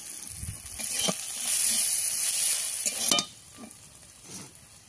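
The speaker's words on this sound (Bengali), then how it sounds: "পেঁয়াজটা ভাজা হয়ে গেছে" Onion frying in a pan with a little salt, a low, steady sizzle broken by a few soft stirring scrapes and one sharper knock, heard close with no voices.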